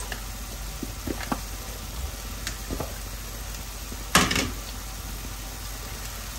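Onion and garlic pieces sautéing in a pan for Gilani dill vavishka, a low, steady sizzle with a few soft stirring clinks and one brief louder scrape near the end.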